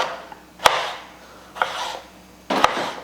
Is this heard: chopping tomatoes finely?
yes